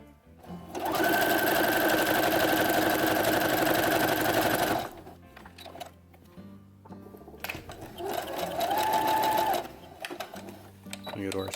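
A sewing machine runs a zigzag stitch along the edge of a Star Wars jumpsuit sleeve cuff, whirring steadily for about four seconds, pausing, then running again in a second burst.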